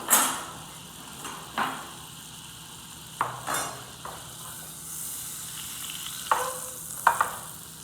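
Chicken browning in melted butter and oil in a hot pan for chicken parm, an even sizzle under intermittent clatters and scrapes of a utensil against the pan, with no talking.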